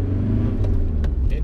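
A cheap used car pulls away and accelerates, its engine rumbling low and building under the driver's voice for a brief moment.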